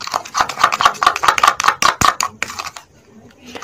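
Homemade tooth-cleaning paste being mixed, giving quick rhythmic scraping clicks for about two seconds that then thin out and fade to near silence.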